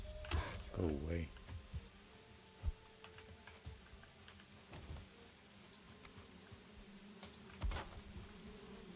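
Bees buzz in the video game Valheim, a faint, steady insect drone under scattered clicks and thuds, with a brief vocal sound near the start.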